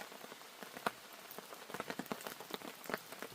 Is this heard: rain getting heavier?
yes